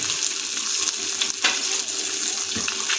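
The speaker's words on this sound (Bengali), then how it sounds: "ওর মধ্যে আমরা ভেজে নেবো কেটে রাখা গাজরের টুকরোগুলো" Carrot pieces fry in hot oil left in a wok after frying fish and fish heads, giving a dense, close crackling sizzle with occasional stirring scrapes and no speech.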